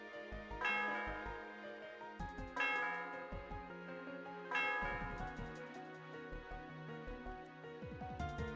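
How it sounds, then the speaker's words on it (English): Synthesized church bell in the Pokémon Black video game chimes three times at regular intervals, each strike ringing out and fading, with low background music continuing beneath. "The sound of the bell reverberates through the area."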